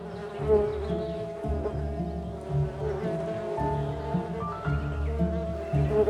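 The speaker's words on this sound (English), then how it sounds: "She's heard the buzzing of bees, and where there are bees, there's honey." A dense, droning buzz of many bees hums steadily and close, with no voices.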